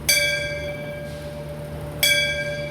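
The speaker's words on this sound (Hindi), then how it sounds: "ये हम घंटी बजाने की कोशिश कर रही है" A temple bell is struck twice about two seconds apart, each strike a bright, loud ring that decays slowly, with no talk over it.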